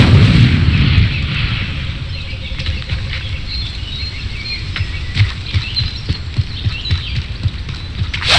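An Incendio fire spell is cast in the video game Hogwarts Legacy: a loud burst of crackling, rumbling fire and impact noise fades into a steady patter of sharp pops and rustles, with a final flare at the end.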